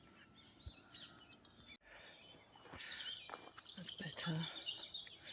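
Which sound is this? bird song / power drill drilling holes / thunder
bird song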